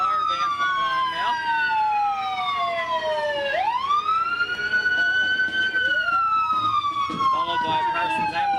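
A wailing siren on a fire vehicle in a crowded street parade sweeps up and down in pitch, loud and near, over a steady background of crowd and traffic noise, with some talk.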